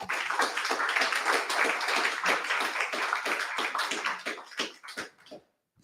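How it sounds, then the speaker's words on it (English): Audience at a tech forum applauding, a dense burst of many hands clapping that holds steady, then thins out and fades to silence near the end. "So I think they deserve a warm applause from the audience."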